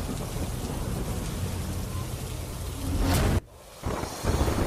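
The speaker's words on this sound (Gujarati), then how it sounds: "પોપટપરા વિસ્તારમાં ભારે વરસાદી માહોલ જોવા મળી રહ્યો છે" Heavy rain pours down in Popatpara, Rajkot, a dense, steady hiss of downpour that swells briefly, then cuts off abruptly before returning.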